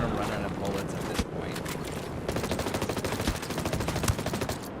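Rapid bursts of automatic gunfire aimed at a helicopter in the video game Ghost Recon Breakpoint, loud sustained volleys with dense rhythmic shots through the second half, over continuous game noise.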